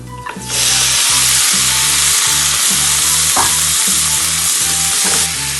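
Marinated chicken for Kerala-style pepper chicken frying in a pan, a loud, steady sizzle and hiss with rhythmic low scraping strokes throughout.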